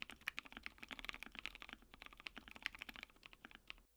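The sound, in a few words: mechanical keyboard typing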